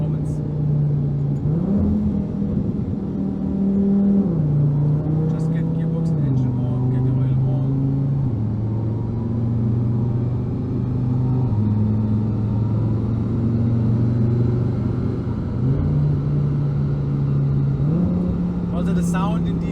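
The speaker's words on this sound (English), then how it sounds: "The sound in these cars when you have the 90mm exhaust system is really insane. It sounds like an old rally car." A turbocharged 2.5 TFSI five-cylinder in a first-generation Audi TT RS 8J with a 600 hp turbo kit and 90mm exhaust drones loud and steady, its pitch stepping up and down through revving with a raw, rally-car rasp.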